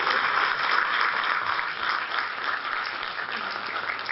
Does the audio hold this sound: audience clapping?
yes